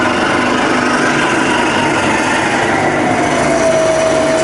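A milling machine spindle running steadily in high range at around 1,000 RPM, a loud close mechanical whine and hum with a tone that drifts slightly, no voices.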